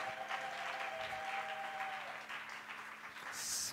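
A church congregation applauds and cheers for Jesus Christ during a sermon, a steady dense wash of clapping that carries through the whole stretch and swells again near the end.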